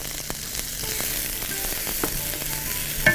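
Onions sizzling and frying in Egyptian country ghee in a pan, a steady crackling sizzle throughout with a few sharper spits and stirring clinks, close and fairly loud with no talking.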